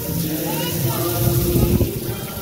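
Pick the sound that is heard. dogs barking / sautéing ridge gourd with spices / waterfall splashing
waterfall splashing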